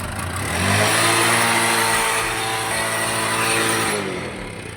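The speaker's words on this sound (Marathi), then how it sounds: "रेस कर बरं रेस कर बरं" Motorcycle engine revving up, holding a steady, loud, close drone for a few seconds, then easing back down.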